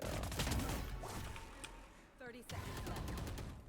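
Rapid gunfire bursts in the video game Valorant, a few quick volleys under players talking over voice chat, fairly faint against the chatter.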